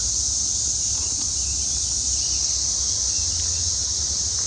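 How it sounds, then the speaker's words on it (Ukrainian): Cicadas drone in a loud, unbroken high buzz on a summer day in the USA, steady throughout with a low rumble beneath and no voices. "Звук маленьких жучків, вони такі як хрущі розміром, називаються цикади."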